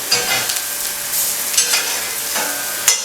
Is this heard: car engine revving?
no